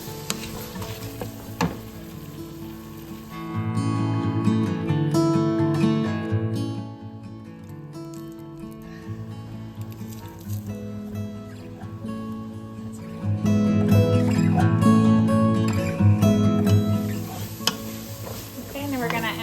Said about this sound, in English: our 1 small to medium chopped onion. I'm using frozen. That smells good already. We're gonna saute that for 4 to 5 minutes.